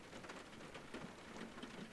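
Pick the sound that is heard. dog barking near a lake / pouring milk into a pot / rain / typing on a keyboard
rain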